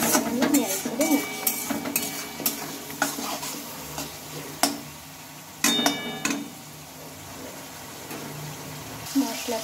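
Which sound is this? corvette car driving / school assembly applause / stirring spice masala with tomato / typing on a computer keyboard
stirring spice masala with tomato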